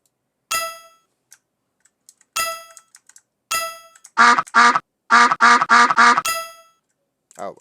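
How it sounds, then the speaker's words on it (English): A duck quack sound effect plays in a Scratch game, sounding as a quick run of loud nasal quacks between sharp metallic clang sounds against silence. "We're going to play the duck sound when you lose points."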